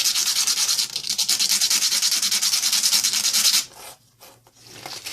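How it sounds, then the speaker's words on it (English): Sandpaper rubs rapidly back and forth over the thin metal leads of a TV backlight LED, a close, fast, rhythmic scratching that runs for about three and a half seconds before stopping, with a few faint scuffs after. "Now I'm just going to take a little bit of sandpaper here because these aren't really sharp enough."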